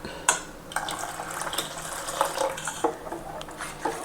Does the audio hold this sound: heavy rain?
no